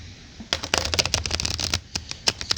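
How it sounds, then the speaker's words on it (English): Tarot cards shuffled by hand in Yucatan, Mexico: a quiet pause, then a quick run of crisp riffling flicks and slaps, close and clear, with a final snap. "One more shuffle."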